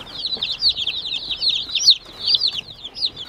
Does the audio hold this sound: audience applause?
no